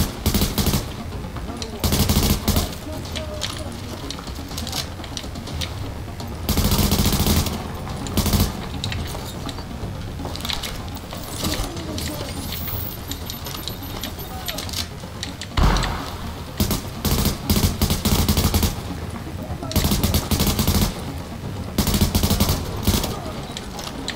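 Sustained automatic gunfire in the video game The Division, loud bursts of rapid shots broken by short pauses, with occasional voices talking between them.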